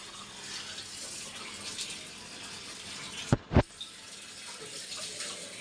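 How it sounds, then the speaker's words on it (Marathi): Tap water filling bottles at home in the evening, a steady rushing flow throughout with a couple of brief loud knocks midway as bottles are handled. "मम्मीचं चाललंय पाणी भरायचं नुसतं म्हणजे बॉटल्या"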